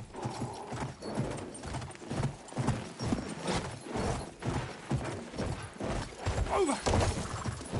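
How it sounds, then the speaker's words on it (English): Video game horse hooves clip-clop steadily at a brisk trot in Battlefield 1, continuous and fairly close, with a brief whinny-like sweep near the end. "Oh, a horse."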